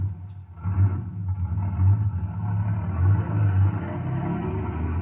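Low, steady engine rumble of a heavy vehicle being shoved into gear in a windswept mountain setting with concrete boulder baffles, a radio drama sound effect with pulsing low throb and no talk.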